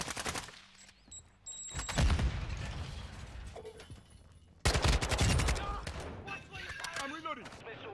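Kastov 545 rifle fire in Call of Duty Modern Warfare II, loud rapid automatic bursts in two main volleys with mechanical clicks and reload clatter between, set among other game sounds.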